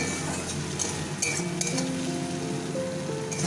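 Okra curry with onions sizzles in a pan at home, a steady close crackle with faint clinks of a utensil against the pan.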